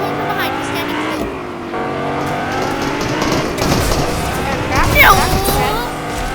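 Video game cars drive and race with a shifting engine drone, several vehicles passing close, with a sharp squeal-like burst near the end, under excited talk from players throughout.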